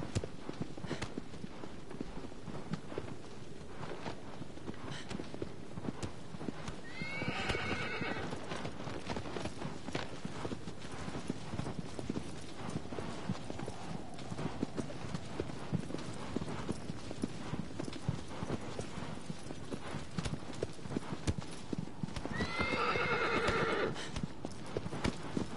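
Horse hooves clip-clop steadily at a gallop through a Shadow of the Colossus game soundtrack, with two short neighs breaking in partway and near the end.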